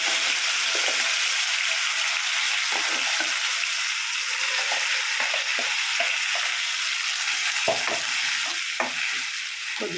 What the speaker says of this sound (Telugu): కొద్దిసేపు బాగా ఫ్రై చేసుకోవాలి